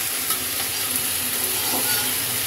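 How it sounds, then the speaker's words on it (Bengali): Spring onions cook in a hot pan with a steady, loud sizzle and frying hiss, with faint stirring scrapes throughout and no talking. "আর এখানে রান্না করব পেঁয়াজকলি।"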